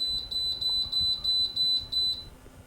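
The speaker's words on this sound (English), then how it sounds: "So if I press the timer button" A DREO tower fan answers repeated timer-button presses with a string of short, bright electronic beeps, about eight in quick succession, close and clear over a faint low hum.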